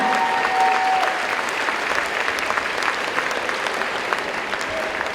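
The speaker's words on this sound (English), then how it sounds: "How about one more round of applause for our freshman attendance" A large crowd at a high school pep rally claps and cheers continuously, a dense, steady roar of applause for the freshman class filling the gym from start to finish.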